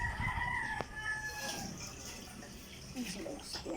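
A rooster crows once in the background with a drawn-out call, faint under nearby splashing and rustling as people talk in a rural yard.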